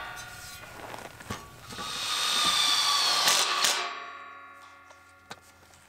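A power drill drives sheet metal screws into steel C-purlins on a pole barn, one sustained whirring run swelling and stopping abruptly, framed by a few sharp clanks and taps.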